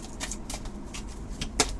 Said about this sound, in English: we must work it out so that the cards shuffle properly.